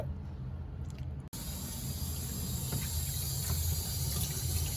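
Running water pours steadily over freshly gutted, stocked river trout as they are rinsed out, a continuous close splashing flow with one brief cut near the start.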